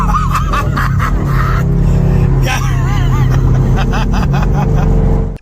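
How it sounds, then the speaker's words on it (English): A Coyote V8-swapped Hyundai Genesis Coupe roars with a loud, sustained engine drone during burnouts, steady and close, with voices and crowd chatter over it before cutting off abruptly. "you saw how it does sick burnouts"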